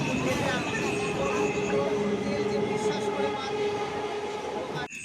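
Platform 2 of a busy railway station crowded with people, a train standing or moving nearby with a steady loud rumble and a few tonal squeals, a dense hum of crowd voices throughout.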